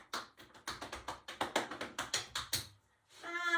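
A hand taps on a leg about a dozen times in an even rhythm of quick, soft pats. A short pause follows, then a faint breathy sound.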